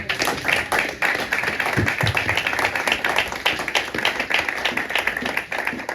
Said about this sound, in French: On acclame encore l'Éternel.